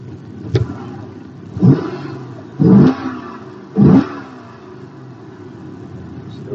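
A 2009 Chevrolet Corvette coupe with automatic transmission and factory exhaust is revved four times in short throaty bursts, with a lower rumble of idle between them.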